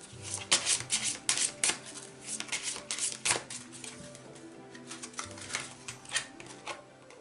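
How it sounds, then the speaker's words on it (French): Tarot cards being shuffled and drawn, a dense close-up patter of riffling clicks and rubbing card slides with brief pauses between bursts. "je vais tirer une dernière carte"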